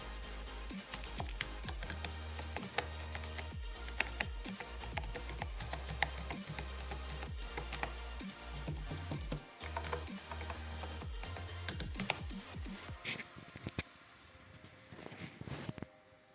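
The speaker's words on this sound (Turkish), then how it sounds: "Onun da tuş seslerini size dinleteyim." Keys on a Lennox LX-T302 keyboard being typed, a steady run of quick, close clicks and clacks that continues for about fourteen seconds and then thins out, with no one speaking.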